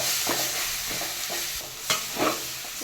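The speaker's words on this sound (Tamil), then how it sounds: "மேகி நல்லா ஃப்ரை பண்ணிட்டுருக்காங்க பாருங்கள்." Masala Maggi noodles frying in a pan: steady sizzling with repeated scraping and stirring strokes, close and fairly loud, with no talking.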